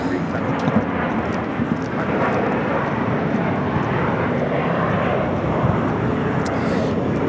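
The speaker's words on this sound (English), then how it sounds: "American Airlines 2543 taking off to Dallas-Fort Worth on the A321, the flagship Valor livery" An American Airlines A321 in Valor livery takes off from LAX bound for Dallas-Fort Worth, its jet engines producing a loud, sustained roar that holds steady across the whole stretch, with a voice talking at times.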